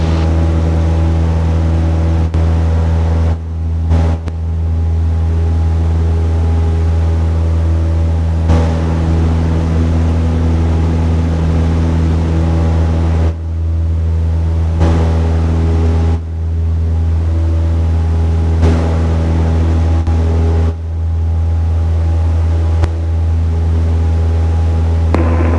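A Cessna Skyhawk single-engine piston aircraft engine at climb power gives a loud, steady, droning hum with a strong low tone that holds throughout, with only brief slight dips.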